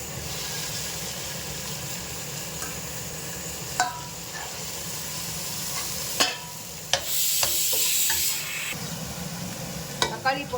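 Tomatoes go into frying mutton biryani masala and are stirred, a continuous close sizzle with scattered clinks and scrapes of a spoon and a louder burst of hissing partway through, no voices.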